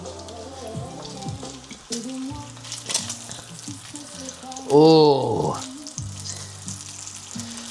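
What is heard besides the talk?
bacon sizzling in a skillet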